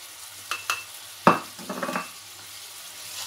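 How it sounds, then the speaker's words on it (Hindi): Pancake batter being stirred in a bowl as flour is sifted in for Pfannkuchen, a few short scraping knocks and a brief louder clatter of the spoon against the bowl, close and otherwise quiet. "और इसको मैं मिक्स करती जाऊंगी और आटा डालते जाएंगे"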